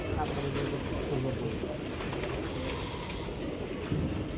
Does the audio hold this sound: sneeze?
no